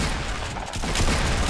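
Rapid gunfire from the Fortnite video game crackles in a dense, continuous burst, loud and close throughout the short moment.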